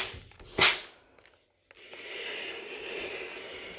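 A steam iron hisses while blocking a crocheted cape scarf, a sharp burst of steam followed by a steady soft airy hiss, close and moderately quiet, with no talking.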